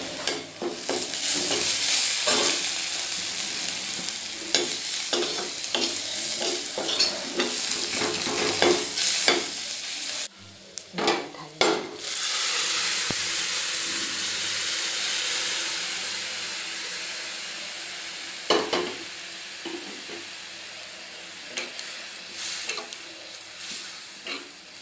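Cumin powder and Kitchen King masala sizzle in a hot pan while being stirred, with a loud frying hiss and repeated scraping strokes of the spoon, a brief pause near the middle, then steady sizzling again.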